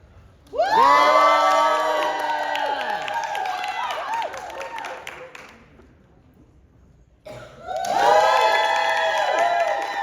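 An audience cheers and shouts at a tea dueling contest at a steampunk western convention, two loud bursts of whooping, screaming and clapping separated by a brief lull, voices of adults and children mixed.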